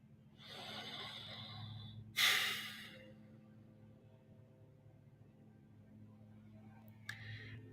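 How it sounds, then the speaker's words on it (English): A congregation draws a breath together for meditation, with a long audible inhale followed by a sharp loud exhale, then quiet with another soft breath near the end, over a low steady hum. "let's get a little breath"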